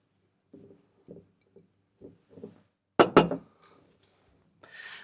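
Dried cowslip flowers are dropped into a glass jar: several soft, light rustling taps, then a couple of sharp, bright glass clinks close by, followed by a faint crinkling rustle.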